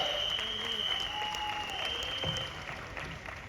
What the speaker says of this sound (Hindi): जोरदार तालियां मोहम्मद सलीम सर के लिए